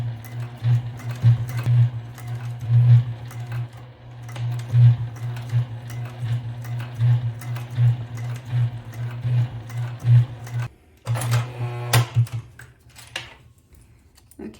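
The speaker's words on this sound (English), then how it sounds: "we're gonna take it to the sewing machine, and then we are going to stitch across" A sewing machine stitches across a bag in steady rapid bursts of mechanical whirring and clicking, stopping and restarting several times, close and clear with no talk.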